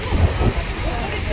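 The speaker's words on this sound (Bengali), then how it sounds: "ট্রেনে উঠে পড়েছি," A Mumbai local train runs with a brief, steady, loud rumble and hiss from close by, filling the whole moment without a break.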